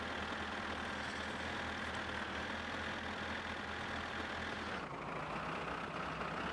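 Tractor engine in the video game My Summer Car, a steady low rumbling drone with a constant hum that holds throughout, shifting slightly in tone near the end, with no talk over it.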